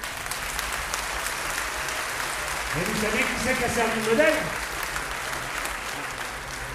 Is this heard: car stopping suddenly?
no